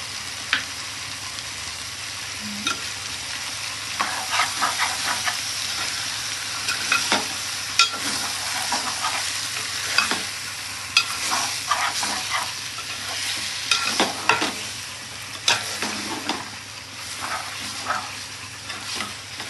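Chicken curry in a pan gives off a constant close sizzle while a spoon stirs through it, with irregular scraping knocks and clatters breaking through the frying hiss.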